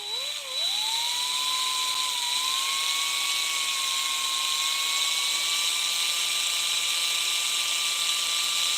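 High-pitched whine of a drill cutting through copper, spinning up at the start and then holding a loud, steady tone close by for several seconds with no talking.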